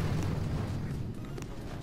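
An artillery barrage lands in the mobile strategy game Boom Beach as a steady low rumble of booms and blasts, dense and continuous, with no talk.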